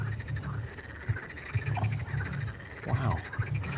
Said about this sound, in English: It's not often you leave a nightclub to the sound of frogs.